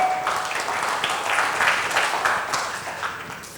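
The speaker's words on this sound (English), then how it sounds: "A big round of applause for all of you." Applause from the audience at a trainers and speakers conference hall, a moderate, steady wash of clapping that swells slightly midway and continues without speech.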